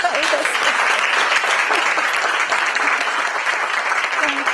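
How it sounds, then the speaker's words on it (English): An audience at Acadia breaks into sustained, dense applause to welcome the poet Sheree Fitch, a loud and continuous clapping roar with a faint crowd murmur beneath it. "the two-finger typing poet Fitch, with unabashed anticipatory applause."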